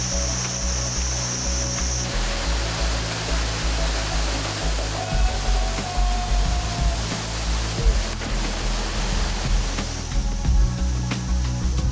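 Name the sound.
waterfalls in Luang Prabang, Laos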